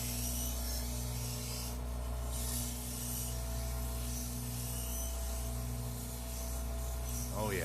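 Sanding a turned wooden piece, a 12-inch longtail oblique pen holder, on a lathe with 120 grit sandpaper: a steady broadband rasp over the constant hum of the spinning lathe, continuous and close throughout.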